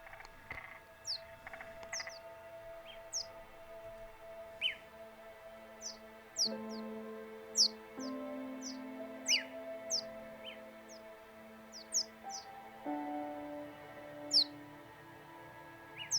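Randomised bird calls from several different birds play in a game scene, short high chirps and tweets scattered irregularly over a steady low ambient hum, fairly close and unaccompanied by talk.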